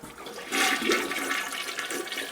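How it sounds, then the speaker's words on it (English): A toilet flushes close by with a sudden rush of water that swells into a steady hissing gurgle and continues to the end. "flush the toilet"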